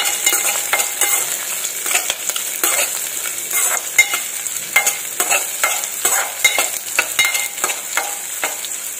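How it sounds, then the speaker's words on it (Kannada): Chopped carrots and beans frying in a little oil, a bright continuous sizzle broken by repeated scraping stirs at an irregular pace, close and alone without talk. "ಹಾಗೆ ಹೆಚ್ಚಿಟ್ಕೊಂಡಿದ್ವಲ್ಲ ಕ್ಯಾರೆಟ್ ಮತ್ತು ಬೀನ್ಸನ್ನು ಹಾಕ್ತಾ ಇದ್ದೀನಿ. ಇದು ಸ್ವಲ್ಪ ಎಣ್ಣೆಯಲ್ಲಿ ಫ್ರೈ ಆಗಬೇಕು."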